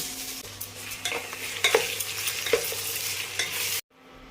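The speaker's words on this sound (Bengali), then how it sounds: "সবজিগুলো ফ্রাই হয়ে গেছে" Mixed vegetables, including long beans, beans, beetroot, carrot and tomato, fry in a pan while a spoon stirs them, giving a continuous sizzle with occasional scraping clicks, close up, before cutting off abruptly.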